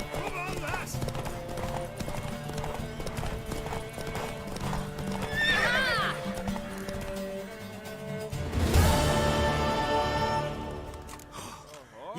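A horse in the Witcher 3 video game clip-clops steadily and gives a loud neigh midway, with game ambience and other whinnies around.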